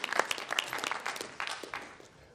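Crowd at a boxing weigh-in applauding the fighter Cameron, a brief burst of steady clapping from many hands, moderately loud and fading slightly toward the end.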